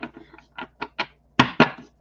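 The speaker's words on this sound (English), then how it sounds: "That was a good shuffle." A tarot card deck is shuffled, about eight crisp, separate papery slaps and flicks in an uneven rhythm, the last two louder, close up with no talking.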